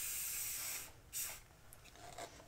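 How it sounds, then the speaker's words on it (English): WD-40 black-can silicone spray is blasted onto a plastic paint cup for acrylic pouring, a quiet steady hiss for about a second followed by a second short burst, then faint handling sounds. "I am going to spray this with the WD-40 silicone spray"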